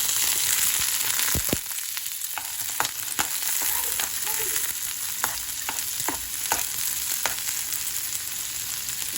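Onions and tomatoes fry in a hot pan, a continuous close sizzle with scattered sharp pops and occasional scraping stirs, steady and fairly loud throughout with no speech.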